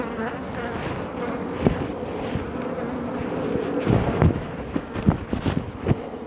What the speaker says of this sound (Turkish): Evet, maskenin içine arı girdi şu anda.